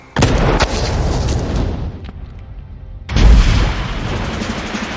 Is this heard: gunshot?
yes